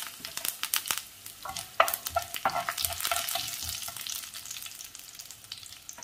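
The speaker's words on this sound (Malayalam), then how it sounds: "കടുക് പൊട്ടി, അതിലേക്ക് കറിവേപ്പില ചേർക്കാം." Mustard seeds and curry leaves frying in hot coconut oil, crackling sharply with scattered pops that settle into a quieter steady sizzle, close up and alone without talk.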